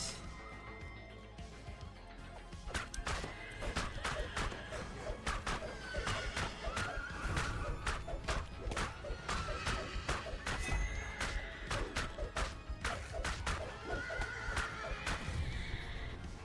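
Horse neighs and whinnies ring out repeatedly over a busy Dungeons and Dragons Online game soundscape, with sharp clattering hits and steady background music.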